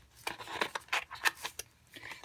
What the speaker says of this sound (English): I'm going to just grab my scissors, and I'm going to just trim just a little piece.